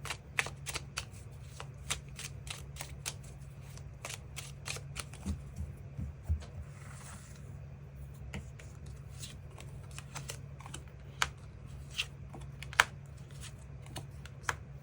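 Tarot cards being shuffled and drawn, a quiet run of crisp riffling snaps and flicks repeating in an uneven rhythm over a low steady hum, with a brief soft rustle midway and no talking.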